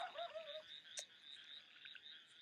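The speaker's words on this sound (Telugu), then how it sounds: "కప్పలు" Frogs croak faintly in a quiet background chorus, a thin steady trilling with one brief sharper click midway and no speech.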